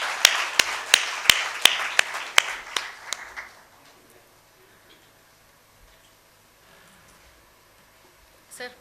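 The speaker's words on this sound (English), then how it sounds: "A big round of applause for him once again." At an Actuaries Day celebration event, a small group claps in a loud, slightly rhythmic burst of distinct handclaps that quickly tapers off, leaving a quiet room with faint shuffling.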